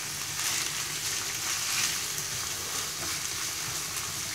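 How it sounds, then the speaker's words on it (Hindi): Half a kilo of sliced onions with ginger garlic paste sautéing in oil, a soft, steady sizzle with faint stirring, heard fairly quietly and without speech. "ये मेरा ½ kg प्याज है जो मैंने स्लाइस किया हुआ है, ये सारा मैं इसमें ऐड कर दूंगा और इसको सौते करूंगा अच्छी तरह"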